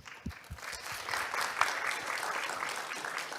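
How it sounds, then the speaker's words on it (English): Applause at a spectrum management forum session in Seoul starts with a few separate claps, then swells into fairly faint, sustained clapping from the audience welcoming a moderator. "Please welcome him with a big round of applause."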